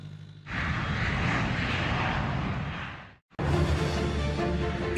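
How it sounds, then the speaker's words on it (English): An Airbus airliner's engines on an easyJet flight produce a broad, steady roar that cuts out abruptly for a moment near the end before resuming just as strongly. "next up for Sophie is the beast, the Airbus"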